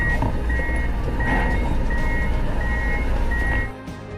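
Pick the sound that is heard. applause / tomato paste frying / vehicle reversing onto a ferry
vehicle reversing onto a ferry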